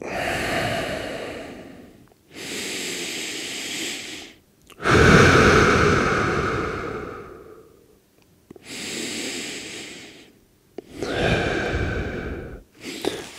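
Deep, slow breaths from a person lying face down on a pad during low back pain positioning, several long airy inhales and exhales with short quiet gaps between them, close and fairly loud.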